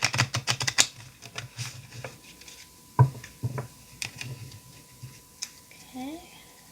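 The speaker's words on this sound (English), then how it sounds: "I'm going to go ahead and shuffle a little bit." Tarot cards shuffled by hand in a quick burst of crisp riffling taps at the start, then scattered quieter card clicks and slides, fairly faint and close, with a voice speaking briefly near the end.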